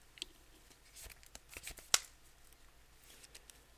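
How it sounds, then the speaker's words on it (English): Cards being shuffled back into the deck in a Magic: The Gathering video game, a quick, soft rippling flutter of papery riffles with one crisp snap, close and faint, with no talk over it. "we do want to shuffle that back into the deck"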